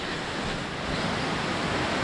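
Steady rushing water of a mountain stream in the Slizza gorge, a continuous broadband roar with no pauses, fairly close and even in loudness throughout.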